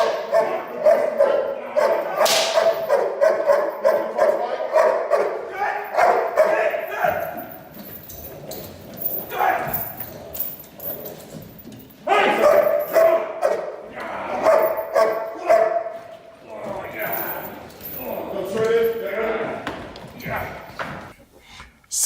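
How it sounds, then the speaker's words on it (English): An 8-month-old Dutch herder in protection training barks repeatedly and loudly at close range, with yips and whimpers mixed in, while people talk throughout. "this is a young 8-month-old Dutch herder that we're training"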